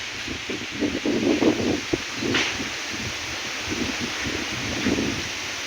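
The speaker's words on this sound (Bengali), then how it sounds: "অনেক জোরে বাতাস হচ্ছে।" Strong stormy wind in rain gusts through leaves, a rushing rustle that swells and fades in uneven bursts at moderate loudness.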